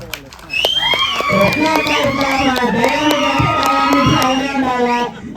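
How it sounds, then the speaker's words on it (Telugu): An audience at a movie trailer launch event at Prasad Labs in Hyderabad bursts into loud, sustained cheering, whoops and scattered clapping that swell after a brief quieter start and hold steady for several seconds before cutting off. "ఒకసారి గట్టిగా చప్పట్లు కొట్టాలబ్బా"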